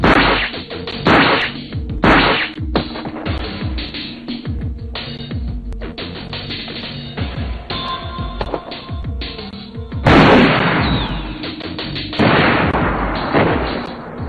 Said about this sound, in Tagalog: nabigyan niya ito ng isang malakas na suntok.